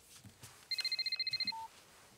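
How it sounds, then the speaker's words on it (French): Tony's dad's mobile phone rings with a quick run of about a dozen bright electronic beeps and then one short lower tone, all fairly quiet and close. "le téléphone du papa de Tony sonne"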